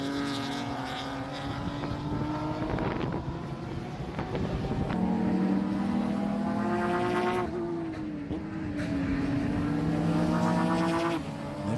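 Race cars circle the track at the Miami Grand Prix, engines droning loudly and continuously with rising and falling pitch as they pass, no voices over them.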